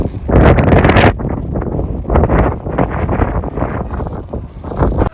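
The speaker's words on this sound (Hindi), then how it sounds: "बहुत प्यारी प्यारी ठंडी ठंडी हवा चली हुई है" Wind blows hard across the microphone in a Pakistani village, with loud continuous buffeting gusts that swell and fade and peak near the start.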